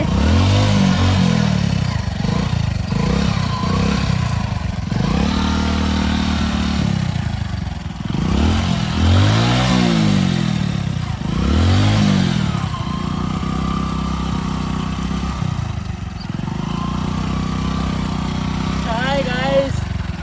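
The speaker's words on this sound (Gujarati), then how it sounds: "બાઈક બહુ તાકાત કરી રહ્યું છે" A motorcycle engine revs hard and labours in repeated surges on a slippery road, loud and close, with voices talking over it.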